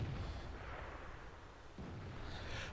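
Faint, muffled booms of tank gunfire from a World of Tanks battle, with a duller low thud partway through under a steady rumbling background.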